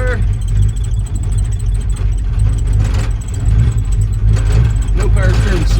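A 1968 Ford Fairlane V8 engine idles steadily on an unadjusted idle, a loud low rumble running continuously with some faint clicks and background noise.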